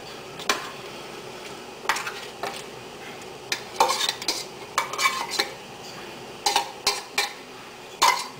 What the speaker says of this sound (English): I'll stir it and bring to a boil.